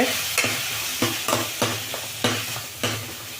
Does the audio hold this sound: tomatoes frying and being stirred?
yes